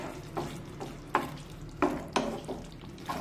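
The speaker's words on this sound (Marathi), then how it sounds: "वरून थोडीशी कोथिंबीर टाकूया, मिक्स करून घेऊया।" Spoon stirring and mixing a green peas (matar) curry with fresh coriander in a pan, giving a few distinct scraping strokes over a soft sizzle, close and fairly quiet, with no talking.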